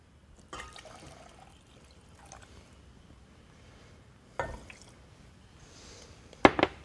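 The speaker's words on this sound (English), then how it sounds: "And I'm going to add my water." Water or stock is poured into a pot of cremini mushroom and roasted garlic rice soup, heard as a few short, close splashes and sloshes separated by quiet stretches, with the last one loudest.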